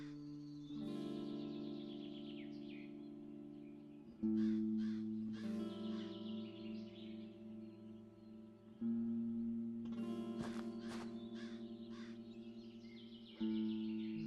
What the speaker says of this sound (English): Hear that crow again.